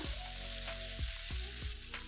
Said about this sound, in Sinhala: ඉඟුරු සුදු ලුණු පේස්ට් එකෙන් තේ හැඳි දෙකකුත් දාගෙන මේ ඔක්කොම හොඳට තෙල් වල ටෙම්පරාදු කරගන්නවා